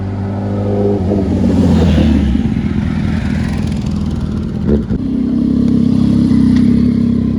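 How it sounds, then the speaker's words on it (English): Loud, close traffic roar on Mulholland Highway with cars and motorcycles revving and rushing past one after another, a steady heavy drone throughout with no talking. "Cars are on this side, motorcycles are flying by here."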